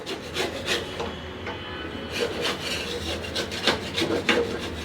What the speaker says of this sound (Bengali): নিচের দিকটাকে আমি মানে ঘষে তুলে ফেলবো